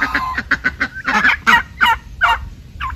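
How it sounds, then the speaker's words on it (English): Turkeys penned on a homestead, giving a run of loud, close gobbling and honking calls in quick bursts, with several birds overlapping. "All of these turkeys will stay in here unless we have issues with fighting or something."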